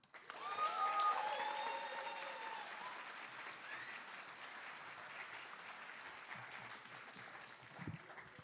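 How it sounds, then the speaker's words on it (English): A school assembly audience applauds its staff during a Black History Month event, a loud burst of clapping from a large crowd that swells quickly, then fades gradually into scattered claps. "Please give one more round of applause for our staff."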